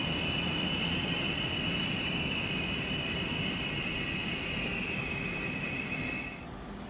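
Trains in the video game Transport Fever 2 rumble past near the tracks, a dense steady roar with a sustained high wheel squeal that fades out toward the end.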